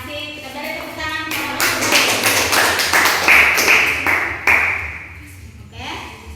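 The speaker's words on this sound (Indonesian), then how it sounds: "Kita beri tepuk tangan." A classroom of students claps together after a group presentation, the applause building from scattered taps into a dense, fairly close patter that fades toward the end.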